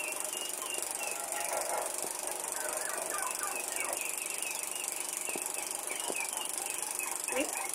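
Geese honking while a farm woman plucks their feathers by hand, a busy stream of overlapping nasal calls, some near and some farther off, over a steady background hiss.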